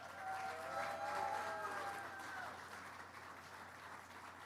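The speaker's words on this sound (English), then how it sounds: "I'd like to ask for a round of applause for all the people who worked on that project" Applause from an event audience at Union Station for the workers behind the new Amtrak NextGen Acela trains sounds faint and distant, a soft steady patter mixed with a tonal whine in the background.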